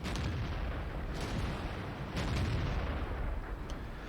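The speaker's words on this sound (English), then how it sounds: "that 105mm howitzer does take a bit of getting used to" A 105mm howitzer fires in World of Tanks: heavy, booming shots sound at intervals over a dense, rumbling battlefield background.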